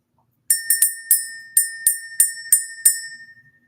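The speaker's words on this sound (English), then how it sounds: "Let's ring the bell." A small bell is struck about nine times in a loose, quick rhythm, each ring bright and clear with a short decay, close and alone with no talking.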